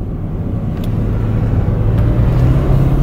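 A car drives along a road with a steady, loud low rumble of engine and road noise and no talking.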